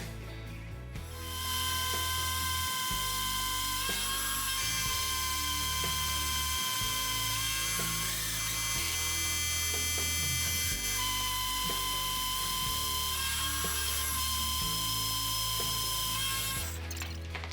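A milling machine runs steadily while a mini hydraulic press part is held in the vise, giving a loud, constant mechanical whine with heavy rattling vibration and periodic low thumps throughout, with no talking.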